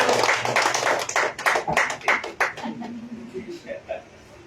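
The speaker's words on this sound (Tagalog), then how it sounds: "Ang hina ng palakpak kay El Shaddai." A church crowd at a faith healing service gives scattered, fairly thin clapping for El Shaddai, with a few chuckles mixed in before the claps fade.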